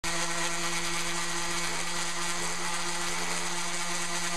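Power sander working over wooden table trim pieces, a steady close-up whine with a constant hum that runs unbroken throughout, no voices.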